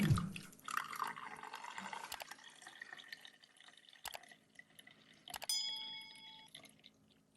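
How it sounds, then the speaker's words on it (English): Liquid trickles and drips steadily through a filter cloth into a cup, with a few light clinks and knocks, close by in a quiet room. "Now we just pour them gently"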